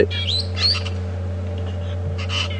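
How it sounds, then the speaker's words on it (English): Parrots flying overhead in a game reserve give a few high, sliding squeaks and chirps, brief and moderately loud over a steady low hum. "You can hear the squeak of the parrots."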